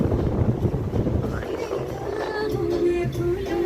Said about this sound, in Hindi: इतनी तेज हवा हो रही है